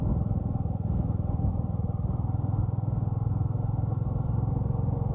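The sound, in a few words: motorcycle riding on the highway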